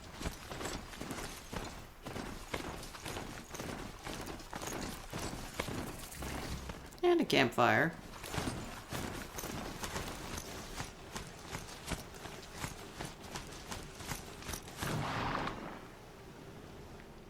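Robot horse hooves clop in rapid, regular rhythm as a mount runs across terrain in Horizon Zero Dawn, moderately loud under game music and effects, with a burst of louder action noise midway and someone talking.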